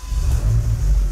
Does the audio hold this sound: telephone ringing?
no